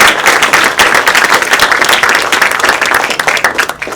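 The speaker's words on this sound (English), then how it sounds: "One more round of applause for our panel." An audience at a peace seminar at Pearl Harbor Aviation Museum applauds the panel, with loud, dense, continuous clapping and no talking.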